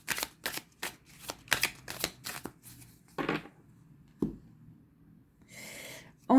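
Oracle cards being shuffled by hand for a pyramid draw, a quick run of crisp riffling bursts followed by a few slower slides and a brief rustle at the end, close and alone.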